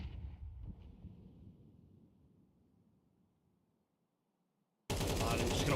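A rapid burst of automatic gunfire sprays out in a competitive first-person shooter playoff match. A low rumble fades to near silence first, then a loud, dense volley erupts abruptly and runs to the end.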